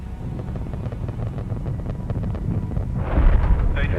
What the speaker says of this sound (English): And the solid rocket boosters have been jettisoned.